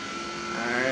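A drag car engine in Forza Horizon 3 holds a loud, steady high-pitched drone that rises slightly in pitch over a brief moment, with no shift break heard.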